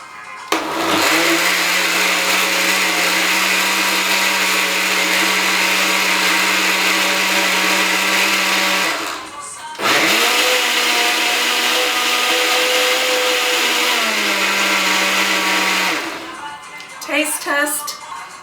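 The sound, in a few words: blender blending coquito ingredients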